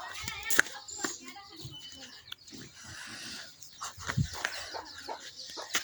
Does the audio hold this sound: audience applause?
no